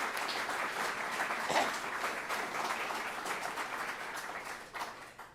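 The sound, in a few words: applause for the chefs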